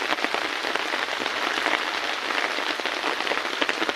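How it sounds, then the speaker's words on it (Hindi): Heavy rain pours steadily in Kanke, drumming on surfaces with a dense, continuous hiss and patter that stays loud and even throughout, with no voices. "बहुत दिनों के बाद आज बारिश हो रहा है।"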